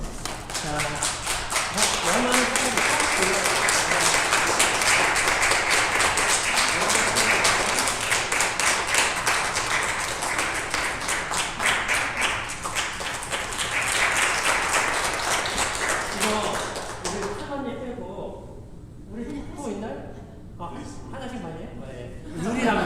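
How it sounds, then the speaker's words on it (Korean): A church congregation at a Sunday worship service gives the elementary-school children loud, sustained applause that fades near the end into scattered claps and quiet chatter. "우리 큰 박수로 우리 아이들 한번 격려해 주십시오"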